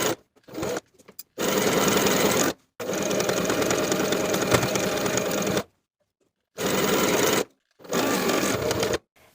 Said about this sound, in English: Now I'll edge stitch close to the upper inner fold all the way around to complete the hem.